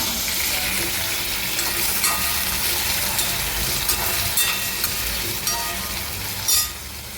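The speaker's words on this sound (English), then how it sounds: "then we'll add the tomatoes and fry it" Tomatoes and ginger fry in groundnut oil with a steady close sizzle and hiss, broken by a few brief stirring scrapes and clinks of a utensil against the pan.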